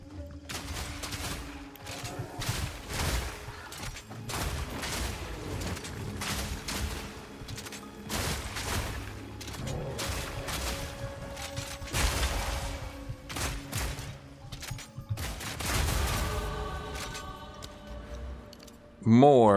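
Rapid, repeated shotgun blasts crackle in Path of Exile 2 during a Witchhunter build's fight, a steady stream of sharp bursts at moderate volume under frequent talking.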